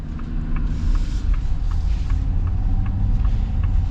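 Ford F-350 Super Duty dually pickup, a 2025 model, driving with a steady low engine and road rumble that stays loud and even throughout, with no talk.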